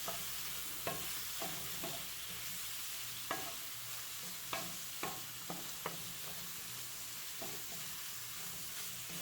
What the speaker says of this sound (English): I'm going to mix it all in there.